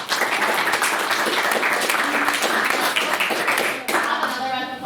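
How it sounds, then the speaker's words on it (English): A meeting audience bursts into a sustained round of applause, many hands clapping close and evenly for several seconds before a voice briefly cuts in near the end. "So let's all have a round of applause for Mark."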